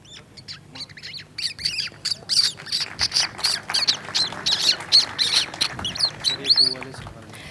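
A voice imitates morning birds chirping and squawking, a rapid run of shrill close chirps and tweets one after another.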